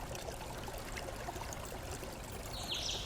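Washed bori lentil dumplings poured into a cooking pot, heard as a soft continuous wet pouring and trickling rush, fairly quiet and close, with no talking.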